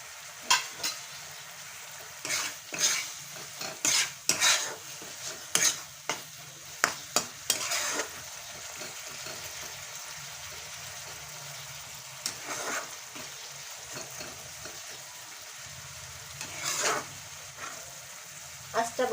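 Cashew paste gets stirred into bottle gourd pickle in a pan, with a continuous sizzle broken by repeated scraping strokes of a spoon, loudest early on, and no voice over it.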